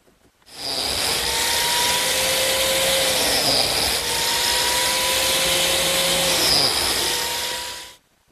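A biscuit joiner cuts slots into wood for a table joint, running as one continuous high-pitched motor whine for about seven seconds with a sharp start and stop and faint pitch shifts as the blade bites.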